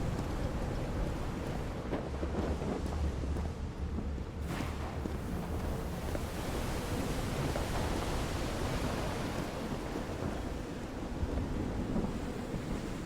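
Thunderstorm in the game Call of the Sea: continuous rain hiss with a rolling low rumble of thunder and a sharper crack near the midpoint, dense and steady.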